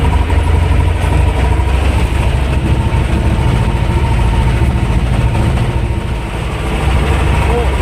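A T-25 tractor pulls a disc harrow across a field, its engine a loud, continuous, unchanging drone up close.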